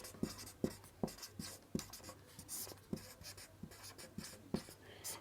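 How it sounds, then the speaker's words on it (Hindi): Chalk writing on a classroom board, a quiet series of sharp taps and scratchy strokes in an uneven rhythm, close and clear with no talk over it. "तो पर्वतीय समीर मैं यहाँ लिखता हूँ"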